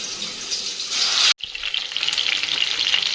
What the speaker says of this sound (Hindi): अब 3-3 मिनट पर इसे उलटते पलटते फ्राई कर लेंगे।